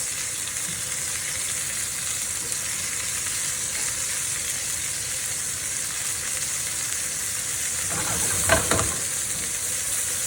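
A garlic sauce bubbles and sizzles as it reduces in a hot pan beside a smoked, reverse-seared porterhouse steak, a steady close hiss that swells briefly into a louder burst of frying near the end.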